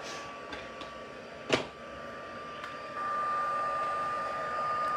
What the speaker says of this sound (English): Get this heat tool going.